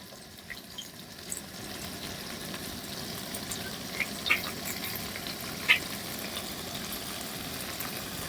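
Chicken frying with salt, turmeric and chili powder masala, a soft continuous sizzle with a few sharper pops and spatula scrapes scattered through, fairly quiet and without speech.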